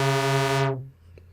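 Synthesizer with square and sawtooth oscillators running through a filter set to no resonance, a steady buzzy held tone that fades out in under a second, leaving near silence.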